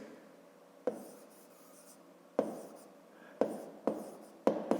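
Handwriting on paper in a close, quiet room, with several short pen strokes and taps, each followed by a brief scratchy scribble, in an irregular rhythm.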